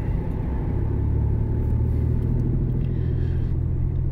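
A 2000 Nissan Pathfinder with a V6 engine cruising through town, its steady low engine rumble and road noise continuous and close with no talk.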